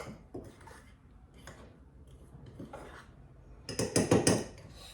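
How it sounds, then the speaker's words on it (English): A fork stirs mug cake batter with tutti frutti in a mug. Faint soft scraping comes first, then a quick run of louder clinks and taps against the mug near the end, with no talking. "And again good mix by this fork."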